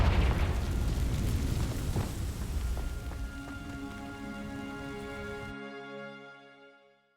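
A Confringo fire spell in Hogwarts Legacy sets dry vines alight, starting with a loud dense blast and crackling roar that slowly fades into a ringing tonal shimmer, with no talk.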